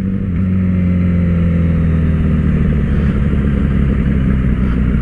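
Honda CBR 1000RR Fireblade sport motorcycle engine pulling hard under acceleration, a loud, steady, close-up roar with strong low harmonics held throughout, no talk.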